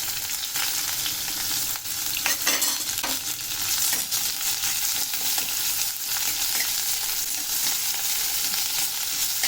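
Sliced onion and two red chillies fry in oil for hotel-style sambar, with a loud, continuous, close sizzle and occasional scraping stirs throughout.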